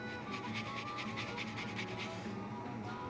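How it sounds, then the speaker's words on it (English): Orange and lemon being zested over cooked ribs, a rapid run of short rasping scrapes in a steady rhythm that stops near the end, close and fairly quiet, with no talking. "Now it's time to finish them with just a little bit of orange zest and some lemon zest."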